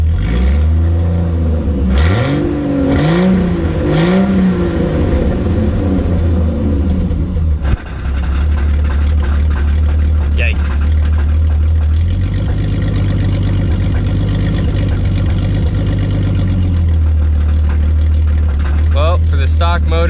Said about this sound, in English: Now's its last time it's gonna run with that stock motor in it.